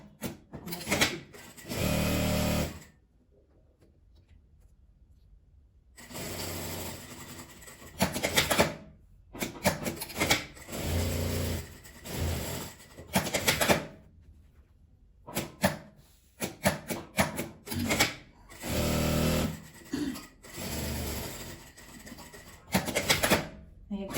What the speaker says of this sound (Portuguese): Aí aqui eu vou costurar só até essa parte onde eu risquei